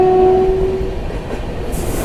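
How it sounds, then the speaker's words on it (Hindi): Bharat Gaurav Express train passing close by on an Indian railway line, a loud, steady rumble of wagons with a brief horn tone at the start. "ये थी दोस्तों भारत गौरव एक्सप्रेस।"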